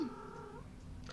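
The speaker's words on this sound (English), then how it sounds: "I don't know if you could hear him meowing or not." A single soft, drawn-out cat meow, quiet and close in a calm room.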